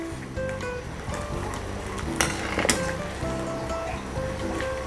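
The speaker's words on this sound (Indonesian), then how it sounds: "Dan ini saya akan angkat dulu ya. Saya tiriskan dulu." Boiled banana blossom (jantung pisang) being drained gives splashing and trickling water, with a couple of sharp clatters and a steady watery wash throughout.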